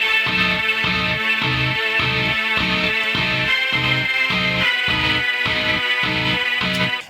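Distorted metal guitar chugs a steady pattern of offbeat chords in a heavier rework of a song, each stab clipped short and evenly spaced, loud and close for about seven seconds with no voices.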